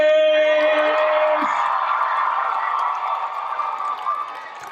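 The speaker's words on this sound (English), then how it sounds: "give a rousing round of applause for Carlos Andres Gomez!" Applause and cheering from a school audience, loud at first and gradually tapering off over several seconds.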